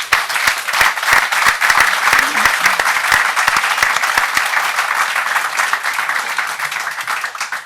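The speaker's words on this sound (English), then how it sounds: "That deserves a round of applause." A crowd at the Cliftonville legends night in 2011 applauds loudly and steadily, the clapping thinning slightly toward the end.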